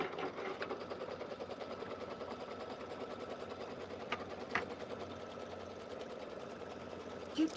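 An embroidery sewing machine stitches a placement line on fabric held in a hoop, a steady rapid mechanical whirr running throughout at a moderate, fairly even level, with a couple of faint clicks.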